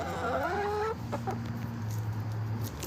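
Former battery hens cluck on a farm. A quick, close burst of clucking gives way to softer, lower clucks, all at a quiet level.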